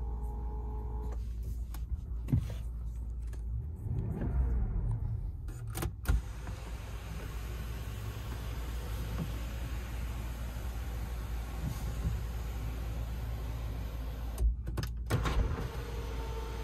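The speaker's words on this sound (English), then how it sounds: "Mirrors do fold as they should." Power side mirrors on a 2011 Rolls Royce Ghost folding, a soft electric motor whir with a few short mechanical clicks and bursts, heard close over a steady low hum inside the car.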